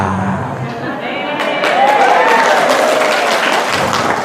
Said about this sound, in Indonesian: Tepuk tangan, beneran ini